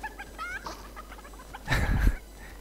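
Soft clucking and chirpy chicken calls from a video game, followed by a louder, rougher squawk near the end, with a steady background hum.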